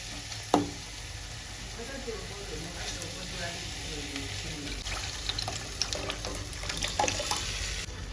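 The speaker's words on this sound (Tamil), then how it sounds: "இப்போ நம்ம கரைச்சி வச்ச புளி கரைசல் இருக்குது பார்த்தீங்களா, அதை சேர்த்துக்கலாம்" Tamarind water poured into a pan of sautéed herbs for a fenugreek-leaf vatha kuzhambu, a steady soft sizzle with liquid splashing and a sharp clink near the start, brief utensil knocks later.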